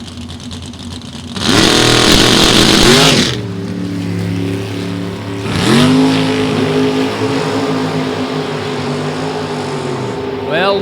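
Black Pontiac Firebird and a Camaro at an NHRA Division 3 drag race: a loud roaring launch of high-revving engines for about two seconds, easing off, then another surge of revving that settles into a steady engine drone.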